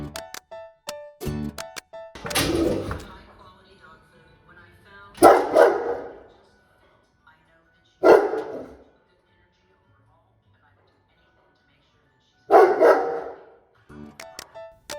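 Black Russian Terrier barking in loud, close bursts, a few barks at a time spread out with quiet gaps between them.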